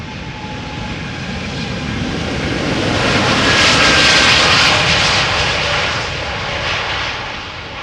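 KLM Boeing 787-10 Dreamliner jet taking off from Amsterdam Schiphol on runway 36L, its engine roar swelling to a loud peak midway and then slowly easing, with no voices.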